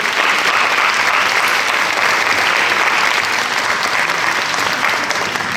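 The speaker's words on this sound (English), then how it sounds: "let's go ahead and give them a round of applause as they make their way here" A school audience claps for incoming speakers, a loud, continuous wash of applause that holds steady throughout, with faint crowd murmur mixed in.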